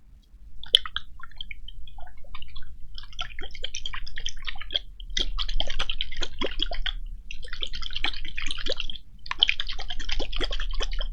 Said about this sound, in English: You gotta wash your hands.